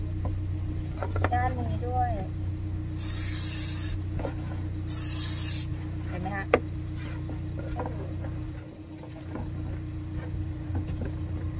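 Protectant sprayed onto a Louis Vuitton cowhide (vachetta) leather bag, near the handles: two short, hissing bursts of the spray close by, with someone talking quietly through the clip.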